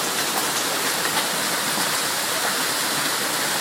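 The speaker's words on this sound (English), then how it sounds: "Look at that hail." Hail falling during a hailstorm at the Cloud Club, a dense, steady hiss of countless pellets striking surfaces, loud and unbroken throughout with no voices.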